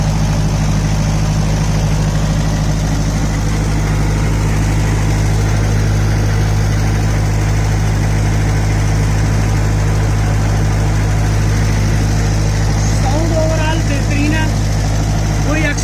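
A diesel generator engine idles loudly and evenly, a steady low rumble with a constant hum that never changes pace, close to the listener.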